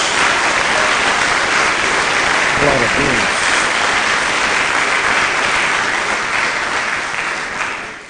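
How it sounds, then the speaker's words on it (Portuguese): Sustained, dense applause from a congregation at a church service, clapping for Jesus; a voice briefly exclaims over the steady clapping near the middle before it tapers slightly at the end. "Dê uma salva de palmas a Jesus"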